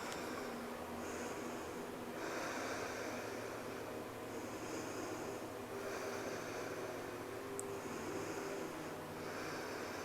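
Slow, audible exhales during a hatha yoga exercise, several soft breaths of air repeating at an even pace, faint and close, with no talking.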